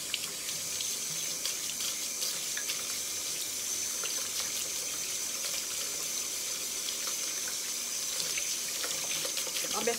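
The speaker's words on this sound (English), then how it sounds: "Let me rinse off my hands." A kitchen tap runs steadily while hands are rinsed under it, a continuous close hiss of water splashing into the sink with faint intermittent clatter and a voice murmuring quietly.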